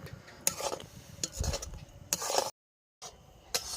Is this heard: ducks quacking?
no